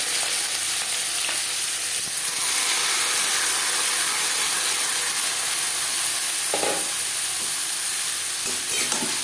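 Chopped banana stem tossed into hot oil with black cumin seeds, a loud continuous hissing sizzle with occasional clinks and scrapes of stirring.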